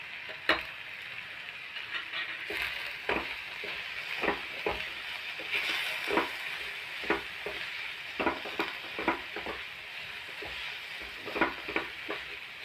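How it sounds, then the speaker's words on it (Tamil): Vegetables sautéing in a pan with chilli powder, turmeric and salt, a soft steady sizzle broken by repeated clicks and scrapes of stirring, close up and without speech. "அப்படியே ஸ்லோவில் வச்சு இது 2 நிமிஷம் நல்லா வதங்கட்டும்."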